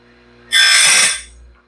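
A sawmill band saw blade's teeth being ground on a chainsaw grinder stone: one short, loud grinding burst of about three-quarters of a second, rising sharply and fading with a brief tail.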